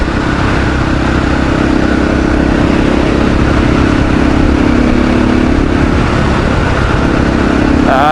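A KTM 500 EXC-F dirt motorcycle engine runs loud and steady close by, holding a rough idle with a slight rise in revs near the end.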